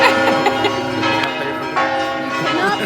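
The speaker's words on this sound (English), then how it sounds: "These chimes are a significant, blessed moment" Church bells in Ravello ring out in overlapping, resonant strikes, loud and close, their tones layering and sustaining across the whole stretch.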